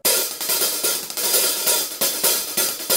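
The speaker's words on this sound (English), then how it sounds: "So I play the hi-hat mostly when I do like grooves with the thick end of the stick" Hi-hat groove played with the thick end of a drumstick, a steady run of bright, close, crisp metallic strikes in an even rhythm, heard alone.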